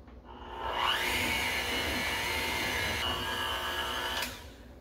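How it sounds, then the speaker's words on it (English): An electric hand mixer whirs steadily for a few seconds while creaming keto chocolate chip cookie dough, a close continuous motor drone that rises at the start and cuts off at the end. "cream the rest of it together using a mixer."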